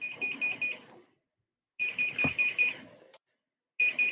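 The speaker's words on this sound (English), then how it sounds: "Oh my goodness, something is beeping." Electronic alarm beeping, suspected to be a lunch timer, in rapid bursts of high pitched bleeps separated by short pauses, with a faint low background rumble.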